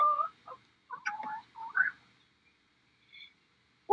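Rhode Island Red chickens cluck in a few short, separate bursts with quiet gaps between them, fairly close by and not under any talk.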